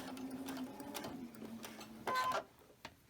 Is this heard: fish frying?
no